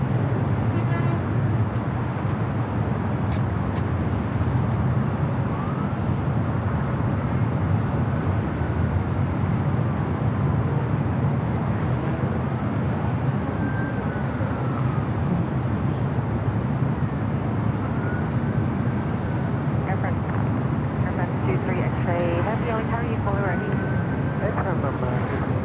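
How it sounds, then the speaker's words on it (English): A Qatar Airways Airbus A350-1000 takes off at LAX, its engines producing a loud, steady jet roar that stays constant throughout, with a voice speaking over it. "Qatar Airways 740 taking off to Doha on the"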